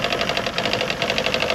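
An outboard motor idling on a Haines 170 Tri-Hunter boat, a loud steady mechanical chugging with a fast regular pulse, close by and running alone without talk.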